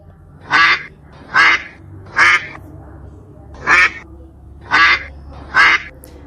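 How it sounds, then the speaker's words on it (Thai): A duck quacks six times at fairly even intervals, loud and close, with quiet background hum between the calls. "เสียง เป็ด"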